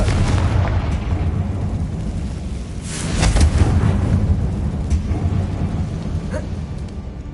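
A Confringo spell explosion in the video game Hogwarts Legacy, a heavy rumbling blast that swells midway over a continuous low, noisy roar, booming and full without any speech.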